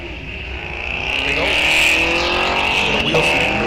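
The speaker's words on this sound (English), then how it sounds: "Wheel spin for that Camaro" A Chevrolet Camaro spins its tires at a drag strip launch, a loud sustained screech and engine roar building and holding steady, with a race announcer talking over it.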